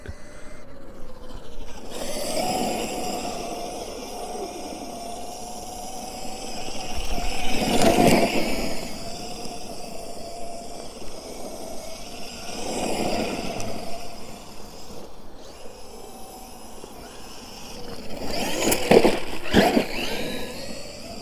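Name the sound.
Traxxas Maxx RC truck driving and sliding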